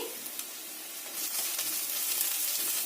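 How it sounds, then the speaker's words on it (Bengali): Steady hiss and crackle of onion and garlic frying in a pan, with a few faint clicks of stirring, getting a little louder partway through. "পেঁয়াজ রসুন আমার ভাজা হয়ে গেছে"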